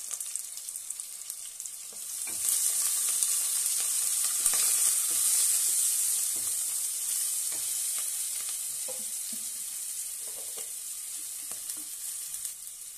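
Ginger-garlic paste and turmeric fry in a pan for a mixed vegetable curry, a bright sizzle that swells after a quiet start and then holds steady, broken by light stirring clinks, with no talk.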